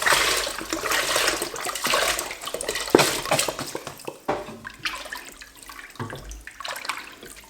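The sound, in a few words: broth being poured into a pot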